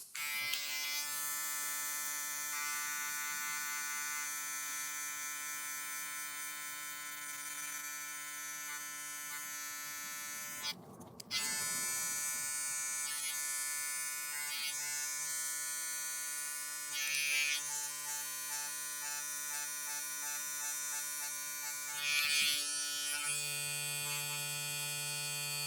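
Electric hair clippers buzz steadily while fading a high taper haircut, using only a few teeth of the blade. The close, continuous hum breaks off briefly midway, then resumes.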